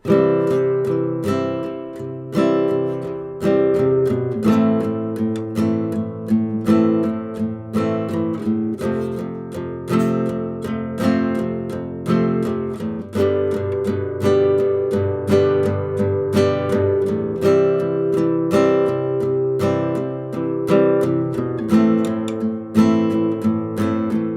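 Acoustic guitar strumming full chords for a big chorus section, a steady rhythm of bright, regularly spaced strokes ringing continuously at close range.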